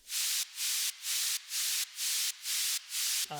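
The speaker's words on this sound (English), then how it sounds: "white noise" White noise layered into an electronic music drop, pulsing in roughly eight rhythmic bursts of bright hiss with short gaps, then a brief tonal synth note at the end.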